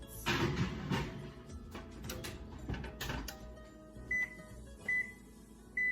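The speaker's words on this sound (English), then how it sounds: "They need to go in the oven for 10 to 12 minutes." A kitchen oven being set for baking muffins, giving three short, identical electronic beeps spaced about a second apart near the end, after some soft handling clatter and rustling.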